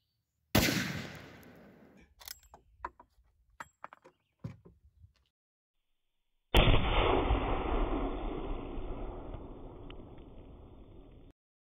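A Ruger No. 3 single-shot rifle chambered in 45-70 fires one loud, close shot that rings out and decays, followed by clicks and handling of the action, then a second sharp, heavy blast with a long, rolling echo.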